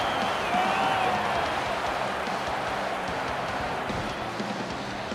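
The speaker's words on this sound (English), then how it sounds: "The home crowd are going absolutely bonkers after that scintillating try." A video game rugby league home crowd roars and cheers after a try, a dense, sustained stadium din with a faint whistle-like tone rising briefly through it.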